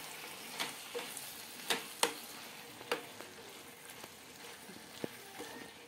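A brinjal (eggplant) curry with chili powder is stirred in a pan, with soft sizzling frying under scattered spoon clinks and scrapes at an uneven rhythm, close and fairly quiet.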